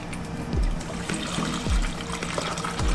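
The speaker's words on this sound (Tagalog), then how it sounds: "Ilagay mo lang dito yung tubig." Water pours and trickles steadily into the reservoir of an Imarflex ICM-500A coffee maker, with a few soft thuds and clunks over a continuous liquid splashing sound.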